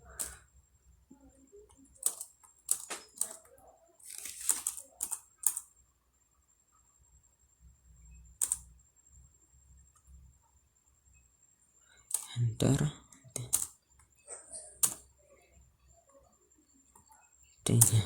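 Data being entered into SPSS Statistics 18 on a computer keyboard, heard as scattered, fairly close clicks and keystrokes in short bursts with quiet gaps between them, with speech nearby.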